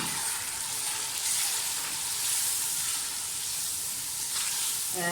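Vegetables for a vegetable biryani fry in oil with spices, a close, continuous hissing sizzle that stays fairly even throughout with no speech.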